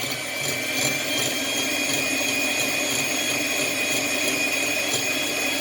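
An electric whisk whips chocolate mousse with a steady, loud, high-pitched motor whine and a faint beating rattle, unbroken throughout with no talk.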